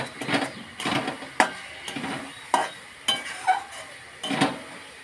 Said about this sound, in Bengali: সুন্দর করিয়ে কষাইয়া আমি